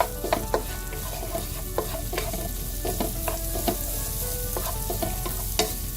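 Onions frying in a pan with browned garlic, giving a steady close sizzle punctuated by regular scraping clacks of a utensil as they are stirred, with no one speaking.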